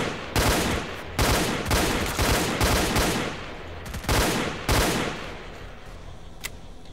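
Bursts of automatic gunfire rattle through a firefight in the video game S.T.A.L.K.E.R. Clear Sky, with several loud, sustained volleys in quick succession before the shooting stops and a faint background remains.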